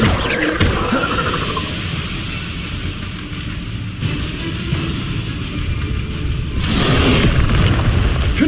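Confringo blast spells going off in the Hogwarts Legacy video game, a steady run of loud booming explosions and roaring combat noise that swells again near the end.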